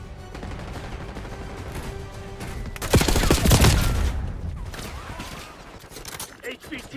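Rapid automatic gunfire in a Call of Duty: Black Ops 6 multiplayer match, steady bursts building to a loud, heavy volley midway before thinning out, with game voice chatter running underneath.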